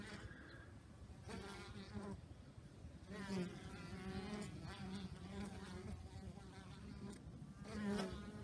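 Honey bees buzz and drone around close by at a hive entrance, several wingbeats overlapping and rising and falling, with faint murmuring in the background.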